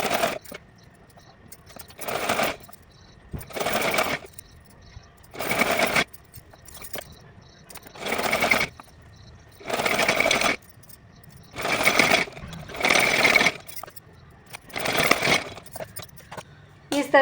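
A sewing machine stitches a fancy dress for a Kanha ji idol in repeated bursts of about a second each, separated by short pauses, heard close and fairly loud.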